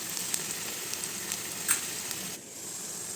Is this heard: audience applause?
no